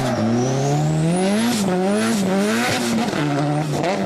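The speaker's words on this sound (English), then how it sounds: "He starts a decent drift into the sweeper, and then he putters out right at the beginning." A Nissan S13 drift car runs loud and close through a sweeper at a drift event, its engine note wavering and dipping as it cuts out and sputters, with tyre squeal over the top.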